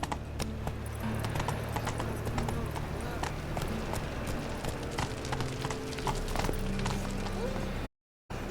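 Horse hooves clip-clop steadily at a trotting rhythm in The Witcher 3, layered over the game's ambient background with a low music-like drone, cutting out briefly near the end.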